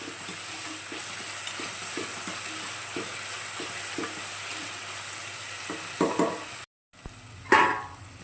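Onions sautéing in a pan for vegetable kurma, a continuous sizzle with repeated light stirring taps, then a brief break and a louder scrape of the spatula near the end.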